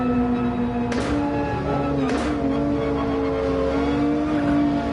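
A race car in Gran Turismo 7 accelerating hard, a steady loud engine drone climbing in pitch with brief gear-shift breaks, heard close from the cockpit.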